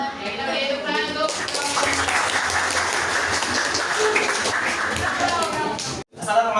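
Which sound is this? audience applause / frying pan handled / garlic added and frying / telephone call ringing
audience applause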